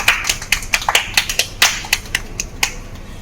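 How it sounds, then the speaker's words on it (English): Scattered, distinct handclaps from a small group at a school Teachers' Day concert, about a dozen crisp claps in an irregular rhythm, close and fairly loud with no talk. "Let's give them a round of applause."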